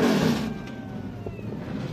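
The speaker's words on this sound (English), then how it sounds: "Drivers, start your engines!" TA2 race car engines at Mid-Ohio fire up and rev. A loud broadband roar at first, then rising and falling engine tones as several cars rev close by.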